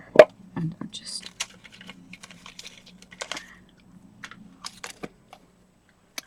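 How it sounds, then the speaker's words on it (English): A mint crunched between the teeth at close range, giving a few sharp crunches followed by quieter chewing and soft mouth sounds. "have a crunch on a mint for a moment, just to make sure I don't start coughing."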